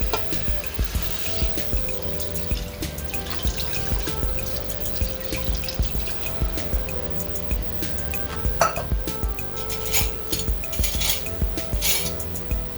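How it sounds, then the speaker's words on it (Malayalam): Four cups of water poured into a pressure cooker holding mutton trotters for soup, with a continuous splash and trickle mixed with clinking of metal vessels and utensils, close by and with no speech. "നാല് കപ്പ് വെള്ളം ഒഴിച്ച്"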